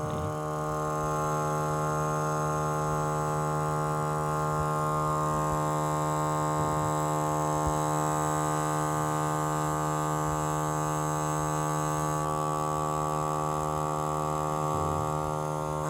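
A honey suction pump for stingless bee honey drones on without a break, a constant electric whine with faint shifts in tone, no voices.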